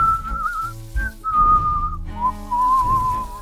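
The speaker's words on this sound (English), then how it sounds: "The tailor kept whistling merrily." Merry whistling of a little tailor in a fairy-tale narration, a bright wavering melody in short phrases with brief pauses, close and clear with no talk over it.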